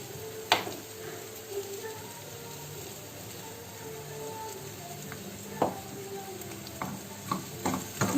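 A capsicum and potato curry seasoned with salt and turmeric is stirred in a pan, giving faint, scattered spoon scrapes and taps over a quiet, low hiss.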